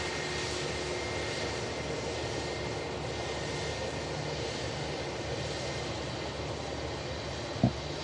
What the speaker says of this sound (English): British Airways shuttle filling the frame there. A319, the engine's looking massive on the smaller airframe.